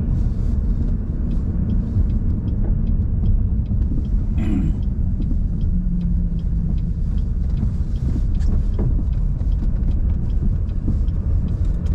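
A car drives along a snow-covered road in Canada, giving a steady low rumble of engine and tyres from inside the vehicle, continuous throughout with a few faint ticks and no talk.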